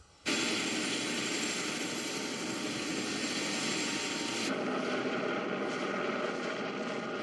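Helicopter flying over a mountain while filming a film production, a loud continuous rotor and engine drone that holds steady throughout, with a slight change in tone partway through.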